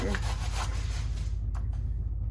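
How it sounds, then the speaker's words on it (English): Zucchini is rubbed against a grater in steady, rhythmic rasping strokes, close and continuous, with a low rumbling undertone throughout. "So you're just going to grate this zucchini here."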